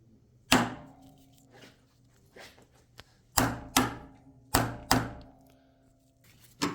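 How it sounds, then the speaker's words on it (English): A hammer strikes metal in a gunsmithing session fitting night sights to an HK VP9 pistol, one blow glancing off a vise; a series of sharp, ringing knocks spaced irregularly, close and loud against a quiet room. "I hit my vise"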